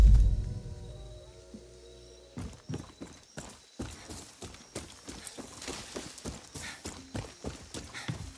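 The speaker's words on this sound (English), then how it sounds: "Magic horse." Horse hooves clip-clop in Far Cry 6 after a loud thud at the start, settling into a steady, close trotting rhythm of evenly spaced hoof strikes with no talk over them.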